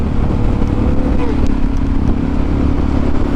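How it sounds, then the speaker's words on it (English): Motorcycles on an open road, heard as a steady loud engine rumble with wind noise close to the rider. "oh, more bikes! More bike"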